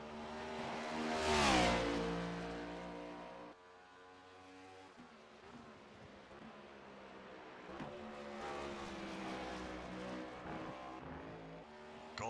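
A NASCAR Next Gen race car in iRacing laps Watkins Glen International, its engine roaring loud and close, climbing and dropping in pitch through the corners in one continuous drone with no voices.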